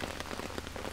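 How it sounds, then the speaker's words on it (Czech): Heavy rain pouring down steadily, a dense continuous hiss of drops striking surfaces close by, with no other sound. "Ono fakt brutálně prší"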